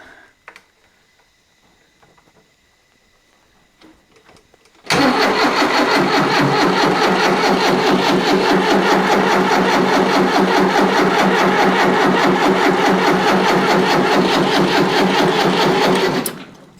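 A John Deere 1640 tractor engine is cranked after a quiet spell, then catches and runs loud and steady, close by, for about twelve seconds before cutting off.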